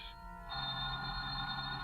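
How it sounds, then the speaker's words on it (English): An old-style telephone bell rings steadily, a bright continuous trill that starts after a brief lower tone and carries on unbroken. "Just then your telephone rings."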